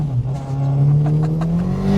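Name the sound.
500 horsepower rear wheel drive Sierra car driving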